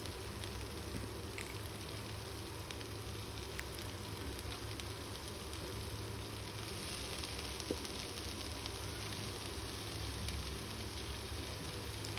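Steady, continuous sizzling and crackling of cabbage stir-frying in a hot pan, with no talk over it.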